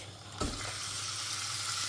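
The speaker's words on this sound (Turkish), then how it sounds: "Orta ateşte kızartıyoruz." A steady, loud sizzle of chicken pieces frying in hot oil over medium heat, with a brief clatter near the start as the pieces hit the pan.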